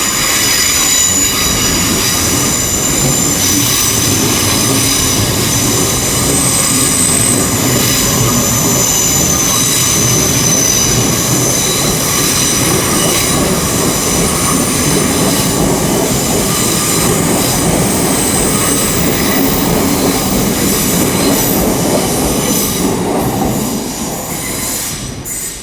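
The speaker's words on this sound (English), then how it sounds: "Yeah, that's going out to St David's IET." A GWR IET Class 802 train pulls out of London Paddington on the Great Western Main Line, bound for Exeter St David's, with loud, sustained wheel squeal and rolling rail noise that fill the whole stretch before easing at the end.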